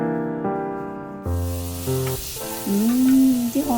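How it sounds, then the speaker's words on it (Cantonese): A hamburger steak sizzles in a frying pan with a bright, continuous hiss of hot fat, while tuneful background music plays over the cooking. "啲漢堡扒已經煎到好香啦！"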